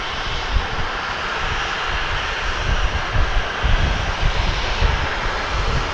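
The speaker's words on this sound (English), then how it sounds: "It's an Airbus A321." An American Airlines Airbus A321 jet passes at DFW Airport, its engines making a loud, steady broadband roar that holds for the whole stretch with no talk over it.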